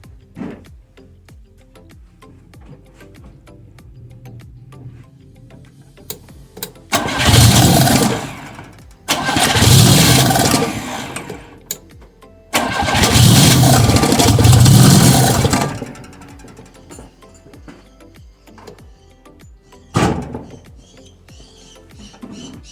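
A Fiat 125 twin-cam engine running on CNG injection is cranked by the starter in repeated loud, close bursts, with quiet pauses between attempts and a brief final crank near the end, and no voices.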